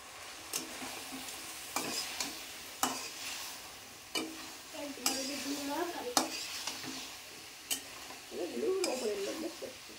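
Turmeric stirred into food frying in a pan, with a steady sizzle under repeated scraping stirs and a few light clinks of utensil on pan, close and moderately loud.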